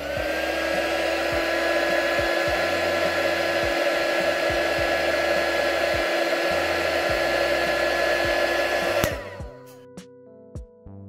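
A heat gun shrinks heat-shrink tubing over a soldered cable on a radio module, a steady loud whooshing whine that runs for about nine seconds before clicking off to near quiet.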